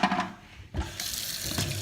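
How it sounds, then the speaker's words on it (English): Tap water runs and splashes onto cookies in a sink, a brief hissing, gurgling flow that starts abruptly and continues steadily, close and moderately loud with no speech. "is I'm pouring water on them."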